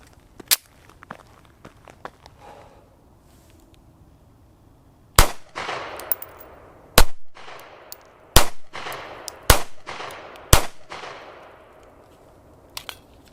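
A Taurus GX4 micro 9mm pistol fires steel-cased Red Army Standard 115-grain ammunition at 5 yards. After a few faint early pops, five or six sharp, loud cracks come in an uneven string of near shots, each followed by a short ringing decay.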